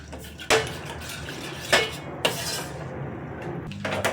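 A spoon clinks and scrapes around a pan while flour is stirred with cold milk, giving a few sharp metallic knocks over a soft continuous rustle, fairly close.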